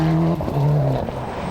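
Tommy Mäkinen's rally car spins during the final day of Rally New Zealand 1998, its engine droning loud and steady with a dip and a brief tire scrub, no voices.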